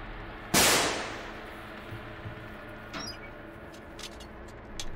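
A single sharp, loud gunshot in The Outlast Trials or The Texas Chain Saw Massacre video game cracks out and decays quickly, followed by fainter thuds and quiet game ambience.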